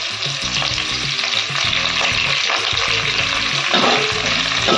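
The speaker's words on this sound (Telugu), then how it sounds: "ఫ్రెండ్స్ తర్వాత రెండు రెబ్బలు కరేపాకు వేసుకుంటున్నాను ఫ్రెండ్స్" Curry leaves sizzle loudly in hot oil with onions for a tomato egg curry, a close continuous crackling fry with stirring sounds throughout.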